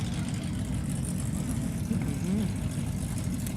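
A 440 cubic inch Dodge truck and a GMC Sierra in no-prep truck drag racing at Newport Raceway give a steady low engine drone, moderately loud and somewhat distant, with a brief rising whine partway through.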